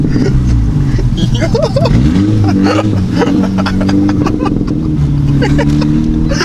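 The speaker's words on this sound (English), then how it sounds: "Just rev it neutral" A VW GTI with a fully straight-piped exhaust, a 3-inch downpipe and no resonator or muffler, revs in neutral. The engine drones loud and close, rising and falling, while people talk over it.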